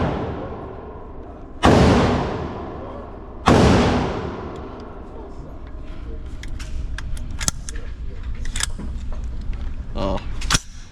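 Two loud gunshots crack close by at an outdoor shooting range, a couple of seconds apart, each with a decaying echo, followed by quieter handling clicks and background noise.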